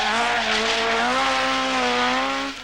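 Ari Vatanen's Ford Escort RS1800 Rothmans rally car at full throttle, a loud, steady, high-revving engine howl with strong harmonic tones that rise slightly and hold, close and alone with no voices.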